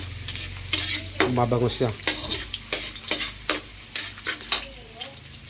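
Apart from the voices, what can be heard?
onions sautéing in a pan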